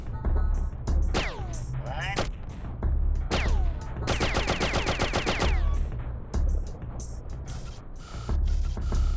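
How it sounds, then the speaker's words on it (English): Gunshots and shooting in the 1998 video game Oddworld: Abe's Exoddus, sharp repeated bursts with whirring mechanical game effects between them, loud and close, with a voice talking over parts of it. "Now, that was risky because Abe is literally right here, so I was basically shooting at Abe"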